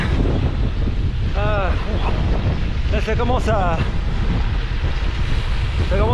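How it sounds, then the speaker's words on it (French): Strong wind roars steadily into the microphone on a long-distance gravel bike ride in France, with someone briefly talking in French over the constant rushing noise. "C'est le vent là, il y a beaucoup de vent"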